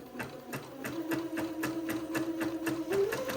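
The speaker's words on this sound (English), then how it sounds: "Now I'm going to zigzag 1/4 inch away from the bottom of the sleeve." A sewing machine runs a tight satin zigzag stitch along a sleeve hem, a rapid even mechanical clatter up close, humming steadily throughout with no talking.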